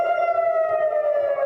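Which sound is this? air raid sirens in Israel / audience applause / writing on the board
air raid sirens in Israel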